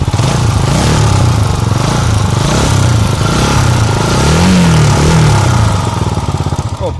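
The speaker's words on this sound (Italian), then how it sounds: "Sentite come gira bene il motore 400 raffreddato d'aria." A Mash TT 400 motorcycle with an air-cooled 400 cc single revs up close and loud, the engine note rising and falling through several throttle blips over a steady rumble.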